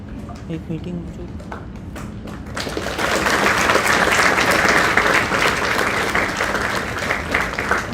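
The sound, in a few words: audience applause for a university guest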